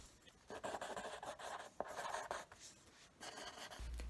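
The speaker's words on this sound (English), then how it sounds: "A pencil on paper is piano." Pencil writing on paper: quiet, close scratchy strokes in uneven bursts with short pauses between them, a sharper tap partway through.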